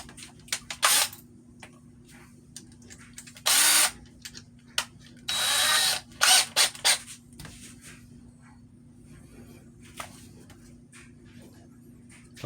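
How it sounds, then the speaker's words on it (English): A power drill with a countersink bit bores into a 3D printed cosplay blaster part in several short bursts of loud whirring, separated by quiet pauses and small handling clicks. "It's a countersink bit right there. That's what we're going to use."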